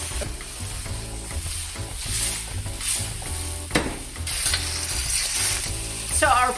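Pork fries for Thai fried rice, a steady close sizzle with stirring and scraping of a utensil in the pan, over background music with sustained tones, and a sharp clank partway through.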